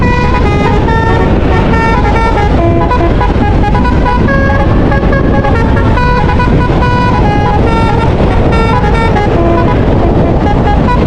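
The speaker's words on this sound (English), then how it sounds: "That horn sounds so fun." A vehicle horn honks amid a dense, busy mix of traffic and engine noise during a rainy Christmas-season ride, with steady layered tones running loudly throughout.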